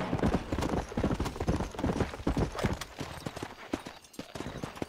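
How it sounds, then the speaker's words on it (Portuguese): Wild horses' hooves clip-clop steadily and close in the Western video game Red Dead Redemption, a dense run of hoof beats with faint neighs in the mix. "o John Marston vai conseguir domar esses cavalos selvagens que estão soltos aí"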